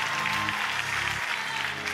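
Congregation applauding at a church service, a steady wash of clapping from many hands throughout the short span, with no speech over it.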